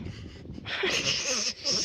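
A single sharp sneeze bursts out amid breathy noise and a bit of nearby talking.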